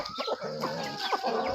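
A chicken lets out several short, close clucks in quick succession, standing out clearly with no talk over them.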